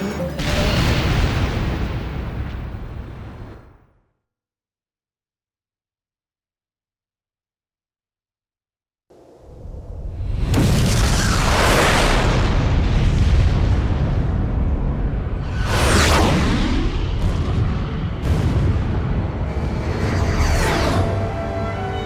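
Heavy explosions from enemy facilities being destroyed in the flight combat game Ace Combat: Joint Assault, loud rumbling blasts that stop into silence for several seconds, then resume as a dense barrage of booms and bursts.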